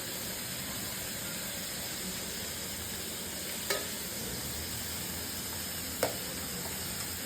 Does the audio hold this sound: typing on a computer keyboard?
no